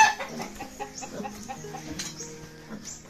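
Several chickens cluck and murmur close by in a provincial yard, overlapping short clucks in an uneven rhythm with no talking.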